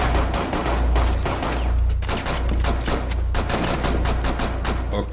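Rapid bursts of gunfire from the video game Rainbow Six Siege during a team deathmatch on the Consulate map, loud volleys of rifle shots with a steady low hum underneath and no talk.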